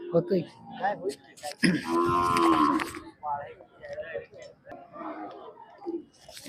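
A Khillar cow of the chitrakosa type at a farmers' cattle market lets out one drawn-out low moo, mid-distance, among nearby voices and market bustle.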